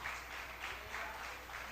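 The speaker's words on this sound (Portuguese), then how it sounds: "dá uma salva de palmas para ele aí" Faint applause from a church congregation during a sermon, a soft steady patter of clapping that swells slightly a few times, heard from a distance.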